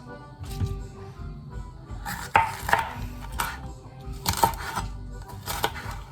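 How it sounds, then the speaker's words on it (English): A knife slices a jalapeño on a cutting board while guacamole is being made, several separate crisp cuts and board knocks at an uneven pace, close and fairly quiet. "Next thing we're going to do is slice up some jalapeno"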